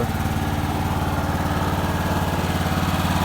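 A small pull-start generator engine running steadily at idle, a close, even, rapid chugging drone with buzzing overtones, alone without talk.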